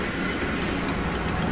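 A minecart rolls along powered rails in Minecraft, a steady rumbling rattle that runs loud and continuous throughout without pause.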